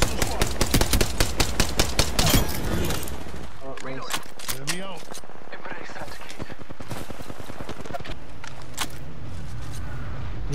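Rapid automatic gunfire bursts out loud and close in a competitive shooter video game, a fast rattling volley followed by scattered single shots and impacts, with players' voices briefly mixed in.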